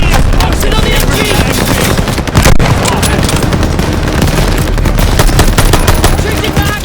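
Machine gun fire in the Call of Duty Vanguard campaign's Operation Tonga battle: loud, rapid automatic bursts nearly continuous through the scene, with heavy impacts, booms and shouted voices mixed in.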